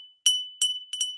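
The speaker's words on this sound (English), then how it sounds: "So it's a collectible Fenton amber bell." A collectible Fenton amber glass bell rings close and bright, struck three or four times in quick succession, each clear ring sustaining under the next strike with no talking.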